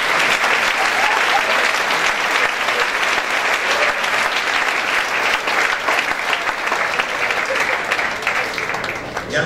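Congregation applauding during a church service, a long sustained wash of many hands clapping at once, fairly loud and even, gradually thinning toward the end.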